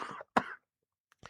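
A single sharp cough from a radio-show host in a studio, preceded by a brief throat-clear burst, standing out between short gaps of silence.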